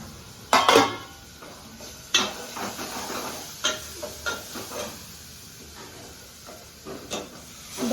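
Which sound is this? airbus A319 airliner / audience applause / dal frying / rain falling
dal frying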